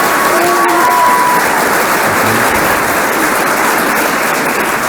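Loud, dense audience applause at a live Q&A show, continuous clapping from a close crowd that holds evenly for several seconds without speech.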